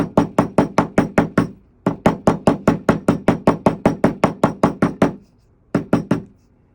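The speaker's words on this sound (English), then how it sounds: "I'm going to use a little brass hammer." Small brass hammer tapping a multi-strand copper wire coil for a bracelet: quick runs of sharp, evenly spaced metallic knocks, close and crisp, broken by brief pauses between groups.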